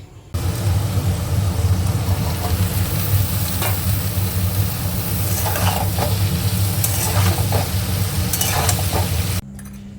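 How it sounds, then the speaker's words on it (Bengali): Okra and potatoes fry in a wok (karai) with a loud, dense, continuous sizzle and stirring. The sizzle holds steady for about nine seconds, then drops away abruptly near the end. "এখানে ভেন্ডি আলু ভাজা হয়ে গেল"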